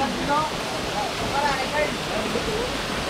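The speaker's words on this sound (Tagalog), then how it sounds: "Ganda ng ragasa ng tubig." Rushing water of a river or waterfall at a rockslide site in Calbayog City, Samar, during rain, a constant broadband roar heard close by, with voices talking over it.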